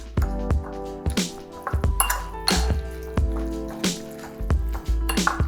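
A utensil scrapes and clinks rhythmically against a bowl while tuna salad with German pickled mayonnaise is stirred together. About ten sharp, ringing knocks sound up close, with no talking.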